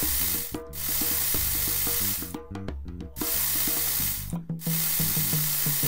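A loud, continuous hissing spray of pheromone in the video game Ant World, with brief gaps, layered over low tonal game music.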